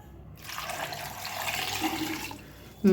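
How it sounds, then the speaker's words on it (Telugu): Water pours steadily into a pressure cooker holding potato pieces for aloo paratha, a rushing close pour lasting about two seconds, ending with a dull knock. "నిండా ఈ పీసెస్ అన్నీ మునిగే వరకు వాటర్ పోసుకుందాము"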